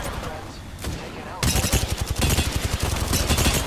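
Video game gunshots follow a brief quieter lead-in, then break into a loud, steady run of rapid shots that carries on to the end.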